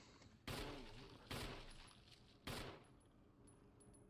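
Three loud, sharp bursts of gunfire in the video game Resident Evil on PS4, spaced roughly a second apart, each with a short ringing tail and faint high metallic pings after.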